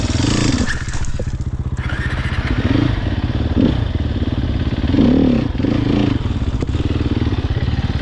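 Sherco SEF300 motorcycle, a 2023 four-stroke trail bike, idling and revving in short throttle blips with clatter and thumps from riding over obstacles, loud and close throughout.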